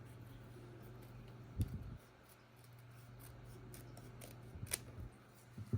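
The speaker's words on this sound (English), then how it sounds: "you're going to carefully use a scissor to cut" Scissors snip across the edge of a phosphate test reagent packet for a marine tank, a few quiet, sharp cuts and crinkles heard close by over a low steady hum.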